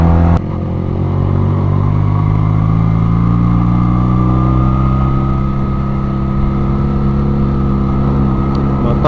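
A Benelli Patagonian Eagle 250cc motorcycle engine runs while riding, a loud, steady, close mid-pitched drone with a rough throb that holds nearly constant throughout, with no talking.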